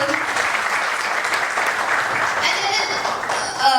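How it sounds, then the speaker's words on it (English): Sustained audience applause at a company rewards and recognition ceremony, an even wash of many hands clapping with faint voices beneath it. "And round of applause,"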